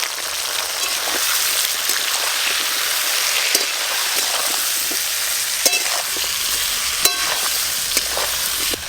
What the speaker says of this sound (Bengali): তেল গরম হয়ে গেছে, আলু আর পটল একসঙ্গে ভেজে নেব